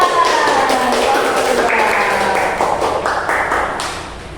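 A primary school class claps for a group presenting its experiment results, a burst of many hands sounding moderately near, overlapped by a teacher's voice and fading toward the end.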